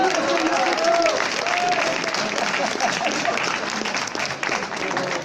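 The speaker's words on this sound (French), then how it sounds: "on l'applaudit, on l'applaudit" A room of guests at a surprise sixtieth-birthday party applauds loudly and continuously, a thick wash of clapping with voices and cheers mixed in throughout.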